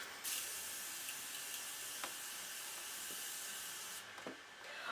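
A steady hiss of a setting spray misting continuously for several seconds, close by, with a couple of faint clicks before the spray cuts off.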